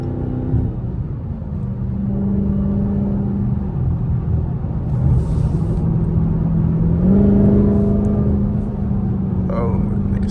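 A straight-piped Dodge Hellcat Widebody's engine rumbles loudly and steadily close by, its revs rising in pitch around the middle and again near the end as it accelerates, with a continuous low drone throughout.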